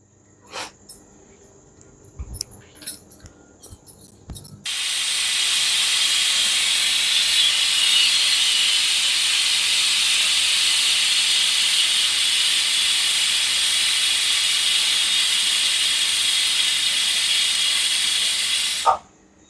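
Pressure cooker cooking pasta on a stove lets out a loud, sustained hiss of escaping steam lasting about fourteen seconds, preceded by faint kitchen clatter and ending abruptly.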